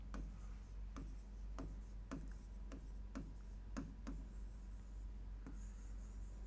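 Chalk or marker writing on a classroom board in a Hindi-language biology lesson, heard as a steady series of crisp, evenly spaced strokes and taps up close, with no talking over it.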